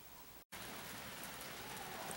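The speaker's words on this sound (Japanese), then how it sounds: "Why is it raining?" Steady rain falling in a town in Saitama, Japan, an even hiss of drops heard through an opened window, continuous apart from one brief dropout near the start, fairly quiet and with no talk.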